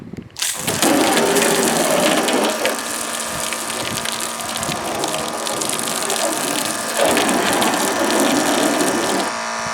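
Water sprays steadily from the nozzle of a LOKITHOR AW401 5-in-1 power unit, a loud continuous gushing hiss that runs nearly unbroken for about nine seconds with slight surges, no voices over it.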